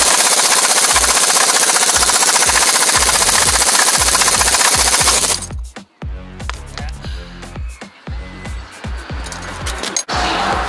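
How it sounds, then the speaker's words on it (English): A chisel is hammered against a vehicle's driveshaft carrier bearing to pop it off: a loud, continuous rattling chatter for about five seconds, then irregular sharp metallic strikes and scrapes close by. "hit that with a chisel while you're doing it, probably pop it off"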